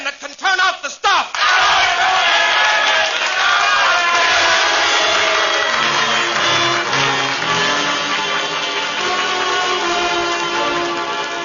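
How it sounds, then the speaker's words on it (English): Crowd cheering and shouting during a live radio theatre performance, a sudden loud roar that swells and holds, with voices mixed into the din. "Now they're cheering"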